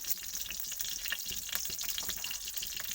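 Bay leaf and chili sizzle in hot mustard oil, a dense crackling fry with quick popping bursts running evenly throughout, close and moderately loud, with no voices.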